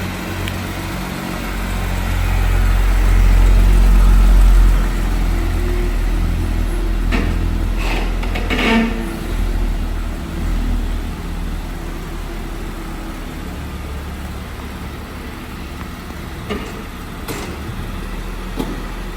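A Jeep Wrangler with an American 3.6 engine pulls away, a steady low engine drone loudest at the start, then easing into a smooth, continuous rumble with a few brief clunks and knocks along the way.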